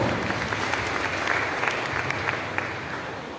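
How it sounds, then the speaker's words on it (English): Dense audience applause at a school champions' event fills the space with steady, continuous clapping from a large crowd, holding at a fairly even level throughout and tapering slightly toward the end. "Can we give him a round of applause, please?"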